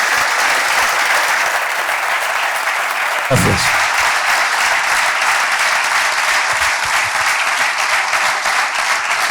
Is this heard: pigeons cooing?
no